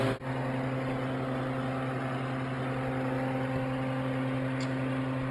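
A blower door fan runs steadily during a home energy audit in a Denver house, a constant low hum and whir with no change in level throughout.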